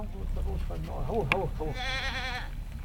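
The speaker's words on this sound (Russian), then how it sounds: "В ГУПе также занимаются разведением овец и коз." Sheep and goats bleat on a farm, several wavering calls in a row, fairly close, while a narrator speaks over them.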